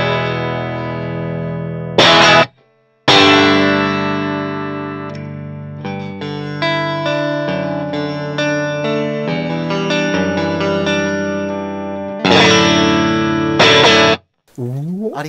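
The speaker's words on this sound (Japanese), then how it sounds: "こちら54年のストラトなんで、はい、ストラトキャスターが世に生まれた 初年度 ですね。" A 1954 Fender Stratocaster played through effects including an Echoplex and Leslie speaker, ringing sustained chords and melodic lines thick with echo, chorus and swirling modulation, loud and alone.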